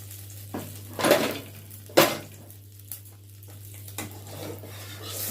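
Paneer fries in hot oil, with a soft sizzle beneath a low steady hum, broken by several sharp clanks of a utensil against the pan.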